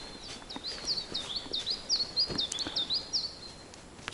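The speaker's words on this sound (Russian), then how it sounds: "Птицы поют." A bird sings outside a remote log cabin in spring, a quick series of repeated high whistled chirps in a steady rhythm, fairly close against a quiet background.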